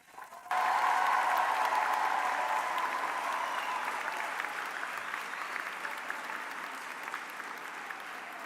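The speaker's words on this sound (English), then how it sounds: "let's give yourself one more big round of applause" A large graduation convocation audience breaks into loud, sustained applause that starts abruptly and tapers slightly as it continues, dense clapping with no talking over it.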